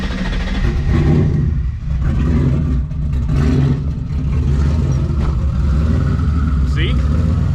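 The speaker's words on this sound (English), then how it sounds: "You start it up, give it a little throttle." A car engine fitted with Holley Terminator X fuel injection runs close by, a loud, deep rumble that rises and falls with throttle blips before settling, while someone talks over it.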